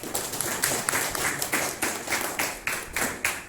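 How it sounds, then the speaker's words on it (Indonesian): A small group in a classroom gives the presenters a round of clapping, a steady run of evenly spaced claps at close range with no voices. "Kita berikan sekali lagi aplaus untuk para pemakalah"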